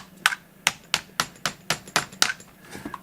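Metal screwdriver banging repeatedly while swapping A-arms on an ARRMA Kraton or Outcast 4S RC car: about eight sharp, close knocks at a fairly steady rhythm, alone with no talking.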